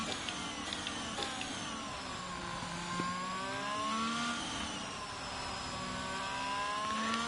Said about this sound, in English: I don't like much the sound of the engine of the Ferrari car.